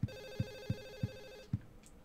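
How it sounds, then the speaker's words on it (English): A telephone rings inside a quiet apartment in the horror video game Silent Hill 4: The Room. Five evenly spaced bell pulses sound alone, close and moderately loud, and the ringing breaks off near the end. "Oh, there's a phone there. Is it the ringing one?"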